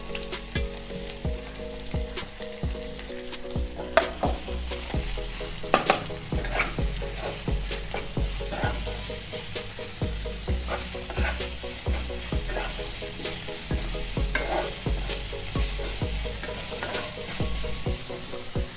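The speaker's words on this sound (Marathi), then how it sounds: "हा कांदा व्यवस्थित आपण मिक्स करून तो आपल्याला चांगला परतून घ्यायचा आहे" Two medium onions, finely chopped, sizzle in hot oil in a pan for kanda poha, with a steady frying hiss and repeated close scrapes and clinks of a spoon stirring throughout.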